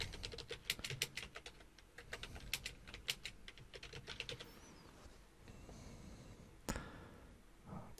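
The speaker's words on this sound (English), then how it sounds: "double click on the text, and type in the lyrics" Lyrics are typed on a computer keyboard in quick bursts of close, crisp key clicks, followed by a quieter stretch with a few mouse clicks and a single louder tap near the end.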